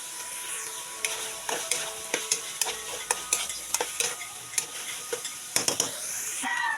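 Hot dogs fry and sizzle in a pan for spaghetti, with a steady hiss under repeated sharp clicks and scrapes of a utensil stirring against the pan, close and fairly quiet.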